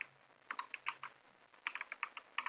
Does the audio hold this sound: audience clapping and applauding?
no